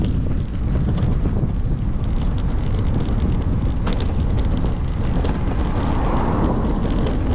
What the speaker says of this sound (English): we've got that nightmare scenario, which is a headwind blown from the south all the way back to the start